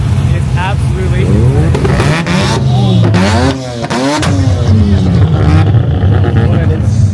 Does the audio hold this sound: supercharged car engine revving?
yes